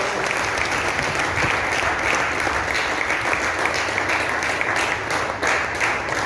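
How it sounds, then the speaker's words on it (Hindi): Sustained, steady applause from a large audience at an RCM business seminar, loud and even throughout with no talking. "जोरदार तालियां आप सबके साथ।"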